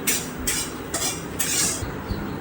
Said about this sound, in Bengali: দারচিনি, জায়ফল, জয়িত্রী, সাহাজিরে, তেজপাতা, লবঙ্গ, গরম এলাচ সব আমি একটু শুকনো খোলা ভেজে নিই